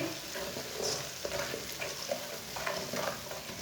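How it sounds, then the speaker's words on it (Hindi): Ground red chilli, turmeric and coriander powder sizzle and fry in a pan for village-style aloo palak, with steady close frying hiss and light stirring scrapes, no talking. "सब मसालों को थोड़ा सा पका लेंगे।"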